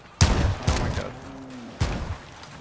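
Bursts of gunfire in the video game Icarus, flares being shot, three sharp loud blasts spaced unevenly with rumbling tails, a short whistling tone between them and faint talk underneath.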